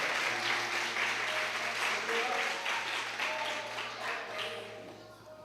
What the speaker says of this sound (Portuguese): Aplauda com vontade,